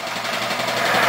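An air compressor runs with a steady mechanical hum and a rapid rhythmic pulsing, held loud and even throughout.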